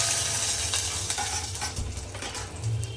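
Onion goes into a hot pan with prawns and is stirred as it fries. A loud, close sizzle runs under scraping spoon strokes and light clatter against the pan, with no talking.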